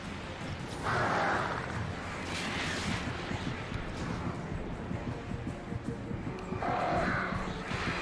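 Crows caw harshly in a few bursts over a steady rumbling background, with a distant boom-like noise throughout, in the video game Alan Wake.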